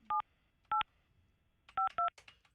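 A telephone keypad sounds four clear dialing tones close up, two spaced beeps followed by a quick pair, with faint background chatter after them.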